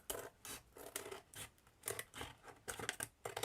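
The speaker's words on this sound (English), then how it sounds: "Take my big scissors and I just want to clip it, that's all." Big scissors clipping craft material for a miniature science lab diorama, a quick run of close, crisp snips and rasping cuts at an irregular rhythm, faint and with no talk.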